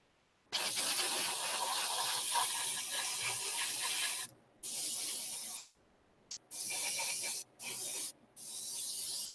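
Airbrush or spray gun misting yellow paint onto a model tank for an Imperial Fist force, a steady close hiss in long bursts broken by several short pauses, with no talking.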